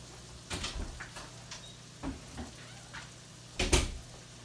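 An oven door and trays are handled as crab cakes go into the oven: several soft clunks and knocks, ending in a sharper, louder bang from the door.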